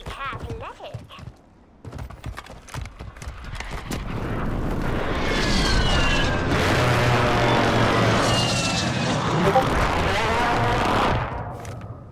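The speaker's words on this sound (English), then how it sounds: "Hostile airstrike near your location." An airstrike in Call of Duty Modern Warfare 3 Warzone builds into a heavy, sustained rumble of blasts lasting several seconds, loud and broad, before cutting off.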